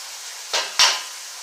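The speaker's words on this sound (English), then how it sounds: "I'll add my eggs." Eggs hitting a pan at breakfast: a short scrape, then a sharp knock of shell or utensil against the pan followed by a brief burst of sizzle, close and clear with no talking.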